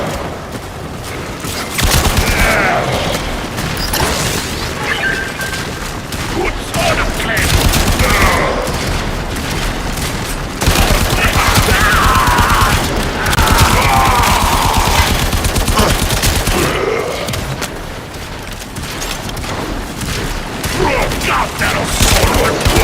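Enemy gunfire in the video game Warframe rattles in loud, sustained automatic bursts with booming impacts, nearly continuous for the whole stretch over layered game sound.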